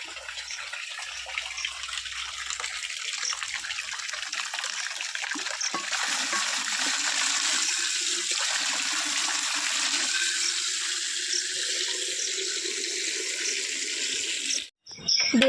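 Water runs steadily from a tap into a sink as someone washes their hands and face at home, a continuous rushing splash that holds level throughout, with a brief knock near the end.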